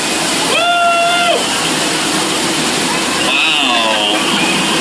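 A steady broad roar of falling water on the Jungle Cruise ride at Magic Kingdom fills the scene, loud and constant, while a voice speaks over it in short expressive bursts.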